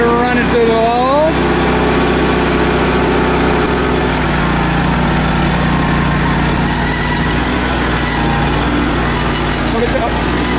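Hud-son sawmill engine with a new carbide blade fitted, running loud and steady at close range while someone talks over it.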